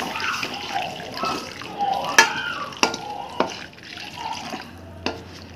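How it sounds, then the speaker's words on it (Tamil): Milk being stirred into a creamy white pasta sauce in a pan, with wet swirling and scraping and a few sharp clinks of the spoon against the pan, no talking. "அதுக்காக கொஞ்சம் கொஞ்சமாக அப்படி சேர்த்து மிக்ஸ் பண்ணிக்கிட்டே சேருங்க"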